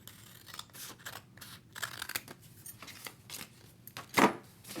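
Scissors cut paper for a Bible journal in a quiet room: a series of soft, close snips and rustles, ending with one louder, sharper slice.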